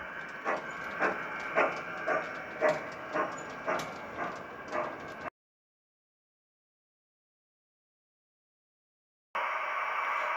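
A G scale model freight train on a 1906-style garden layout rumbles through a short hidden reversing loop, its wheels clicking in a steady rhythmic beat over rail joints before the sound drops out and a louder hiss resumes.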